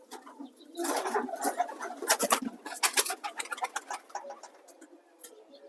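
A flock of pigeons kept by a pigeon fancier, heard nearby as rapid fluttering, clapping wingbeats in quick bursts with soft cooing, growing busier then thinning out.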